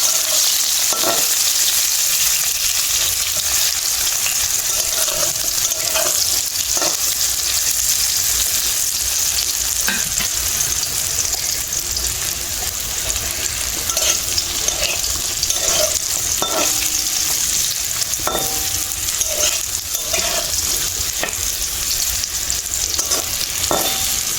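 Dried lentil dumplings (bori), coated in salt and turmeric, fry in oil with a steady close sizzle and scattered stirring scrapes and clinks throughout, no voices.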